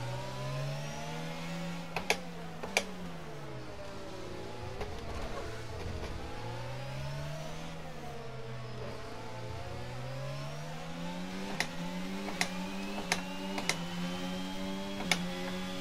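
F1 22 race car engine on the Miami circuit in a video game, a high revving whine that rises and drops through gear changes, with sharp clicks from controller or kerb strikes scattered throughout, fairly quiet overall.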